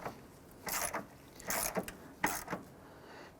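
A ratchet tightens the battery wedge bolt on a 2006-2013 Chevrolet Impala, heard as three or four close bursts of quick clicking strokes separated by short pauses.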